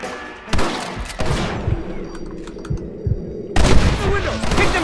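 Repeated gunfire rings out during a Red Dead Redemption shootout on Xbox One X: sharp, loud shots arrive in irregular bursts and volleys, some close and heavy, with a brief lull before a final heavy flurry.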